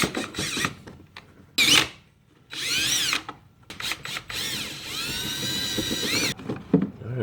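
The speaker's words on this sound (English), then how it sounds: "and a little screw gun here" A cordless screw gun backing screws out of the air filter housing on a Chevy Traverse, several sharp whirring bursts of varying length separated by short pauses, close and loud with no talking.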